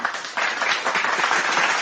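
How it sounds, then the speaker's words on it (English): Dense, sustained applause from an audience at a live show, loud and close, clapping throughout the short stretch with no talk. "Please give a round of applause to my co-hosts"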